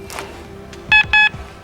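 An electronic carp fishing bite alarm gives two loud, close, sharp beeps in quick succession, clear and alone over quiet outdoor background.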